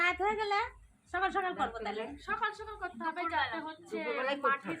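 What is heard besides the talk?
No everyday noise stands out behind the speech.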